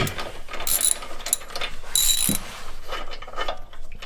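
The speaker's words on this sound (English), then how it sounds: "start ratcheting that off, and see, just like that, it comes out" Ratchet wrench clicking in repeated bursts while loosening a bolt on the suspension of a 2012 Kia Optima SXT during a coilover install, close and fairly loud, with brief metallic rattles between strokes.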